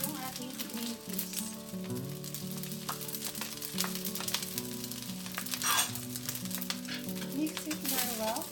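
Adobo fried rice with carrots and green peas being stir-fried in a pan gives a steady sizzle with repeated scraping and stirring of a utensil, close, while a voice talks over it.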